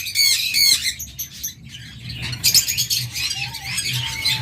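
Pet birds in a bird shop, lutino and black-eyed lovebirds and opaline parakeets, squawking and chirping in loud, overlapping bursts with busy chatter in between.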